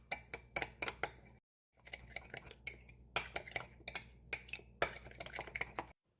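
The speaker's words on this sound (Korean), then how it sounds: "골고루 섞어줍니다." Mayonnaise and sriracha sauce stirred in a bowl, a spoon scraping and clinking against the sides in quick rhythmic strokes, close and fairly quiet, with a brief pause before the mixing resumes.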